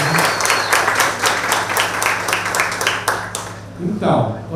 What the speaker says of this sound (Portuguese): vamos dar uma outra salva de palmas para eles.